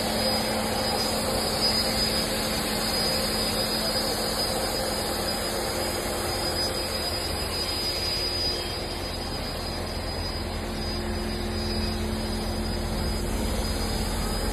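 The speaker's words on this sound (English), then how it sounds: "know if you're hearing the vacuum cleaner" A vacuum cleaner runs at a car wash, a constant loud whooshing drone that holds steady from start to finish.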